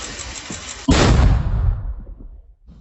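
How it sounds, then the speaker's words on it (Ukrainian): A single heavy 120 mm mortar shot booms close by in the Donetsk region after a moment of background rumble, its blast rolling off and fading over about a second. "будемо здійснювати вогневе ураження 120-го міномету"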